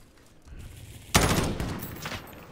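Gunfire in a video game breaks out as a sudden loud burst followed by a rattling stretch of shots that fades gradually, with no talk.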